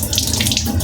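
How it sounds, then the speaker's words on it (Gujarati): Tap water runs hard into a sink while a spoon is washed, a short, close, steady gush with no voices. "ચમચી ધોઈ નાખીએ છીએ."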